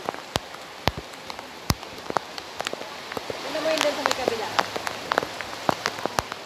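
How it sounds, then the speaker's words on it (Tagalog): Heavy rain pours and patters steadily, with sharp drips striking a surface nearby; a person briefly speaks in Tagalog over the downpour. "grabe ang lakas ng ulan. Super lakas na ulan."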